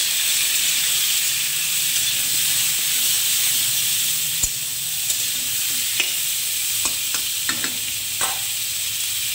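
Turmeric and salt are stirred in a hot frying pan for a mango chutney, a steady soft sizzle and hiss running throughout, broken by a handful of sharp spoon scrapes and clicks toward the end.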